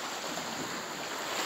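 Baltic Sea waves beginning to turn rough under fog, a steady wash of surf with wind buffeting the microphone, continuous and fairly faint.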